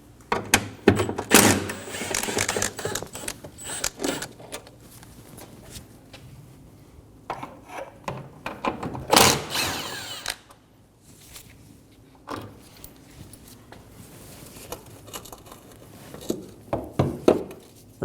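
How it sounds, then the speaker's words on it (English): A 10mm socket wrench works the wiper transmission bolts on a 2008-2015 Scion xB, giving irregular clicking ratchet bursts and metallic clunks close up, with quiet pauses between. "Using a 10mm socket, remove the bolts for the wiper transmission."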